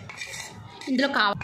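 A spoon scrapes and clinks against a metal pot while mixing fried tempering into a traditional breakfast dish, close and clattery, with brief speech over the stirring.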